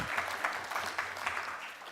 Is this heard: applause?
yes